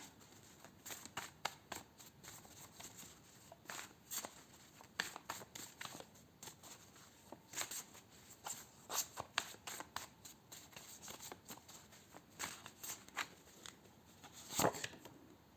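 Tarot cards shuffled and pulled by hand, a long run of crisp, close riffling and snapping bursts at an uneven rhythm, with a sharper slap near the end and no talking.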